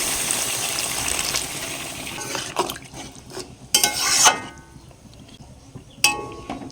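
Water pours with a steady gush into a pan of ridge gourd frying in oil, followed by a few sizzling bursts and clinks of a utensil against the pan up close.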